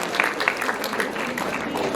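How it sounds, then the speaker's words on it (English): Audience applause closing a faculty lecture session at the DENTCON 2023 dental conference, a steady dense patter of many hands filling the room, with some crowd noise mixed in. "Can we have another round of applause, please?"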